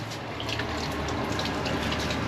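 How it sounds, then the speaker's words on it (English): Water from a caravan's hot water system runs steadily back into the tanks, a continuous even splashing flow with no talk over it. "So the water's reached temp in the hot water system, and now it's just running."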